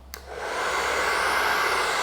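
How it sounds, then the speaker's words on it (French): A hair dryer on speed 1, powered by a portable battery station, starts with a click and settles into a steady, fairly loud blowing whoosh that holds evenly to the end. "Place au test maintenant avec le test du sèche-cheveux."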